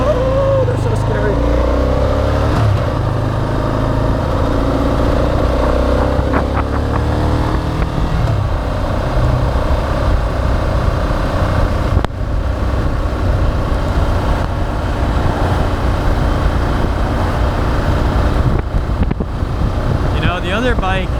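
A 2002 Ducati Monster 750ie motorcycle is ridden on a wet road, its engine a loud continuous drone mixed with heavy wind rush. Speech runs over it for much of the ride.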